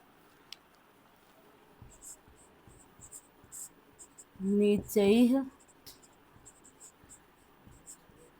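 A pen scratches across paper in short, soft strokes, close and quiet, with brief pauses between marks; a voice speaks once midway over the faint writing.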